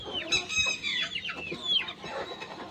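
Hens cluck busily up close, a flurry of short overlapping calls with a few higher squawks, steady throughout.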